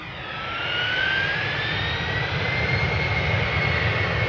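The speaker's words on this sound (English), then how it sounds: "Embraer 190, KLM flight 1049 going to Bristol" A KLM Embraer 190 jet bound for Bristol from Amsterdam Schiphol, eleven years old, roars loudly and close by, its engine noise rising quickly to a steady level with a whining tone sliding upward over it.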